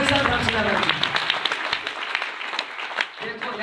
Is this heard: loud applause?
yes